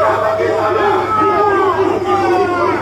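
A pool tournament crowd cheers and celebrates in a dense, sustained babble of voices with whoops and shouts mixed throughout, loud and close.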